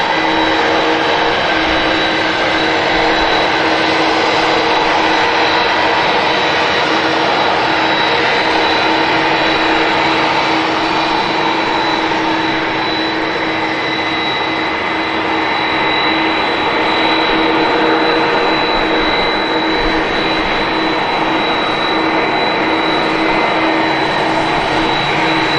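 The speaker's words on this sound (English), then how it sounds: "This Lufthansa is going to be making its way on the return leg to Frankfurt." A Lufthansa jet airliner at Manchester Airport gives off a continuous broadband engine roar with a steady high whine, sustained and fairly loud throughout with no speech.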